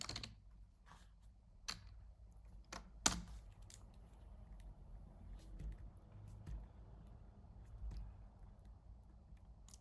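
Soft clicks and taps of typing on a Mac computer keyboard, scattered irregular keystrokes with one sharper press, close and quiet against a faint low background hum.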